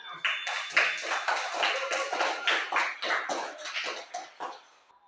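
A classroom of students clapping together, a lively patter of many hands rising in uneven bursts and fading out toward the end.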